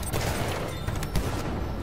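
Gunfire in the video game Battlefield 1, with sniper rifle shots among dense, continuous battle noise and booming impacts, loud and close for the whole stretch.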